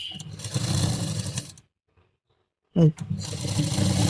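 A sewing machine stitches a gown sleeve in short bursts of rapid whirring, pausing in silence between runs, with someone speaking over it.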